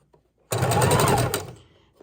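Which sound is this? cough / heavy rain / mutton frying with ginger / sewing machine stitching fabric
sewing machine stitching fabric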